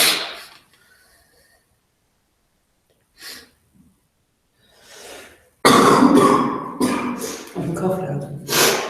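A few coughs after a near-silent stretch, then a burst of loud talking mixed with more coughing and throat clearing.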